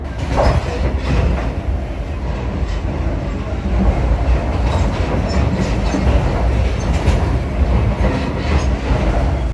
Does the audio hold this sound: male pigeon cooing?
no